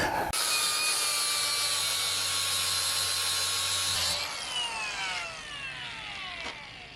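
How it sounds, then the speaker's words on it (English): An angle grinder cuts off protruding rusty bolts, a loud, steady high whine held for about four seconds that then drops and winds down as the disc slows, close by, with no talking. "Grind it off I shall. Where is my grinder?"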